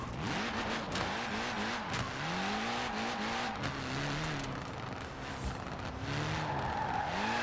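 Tires screeching in a long sideways drift in Forza Horizon 4, a rear-wheel-drive car held in oversteer, with the engine revving and wavering underneath as the squeal rises and falls steadily.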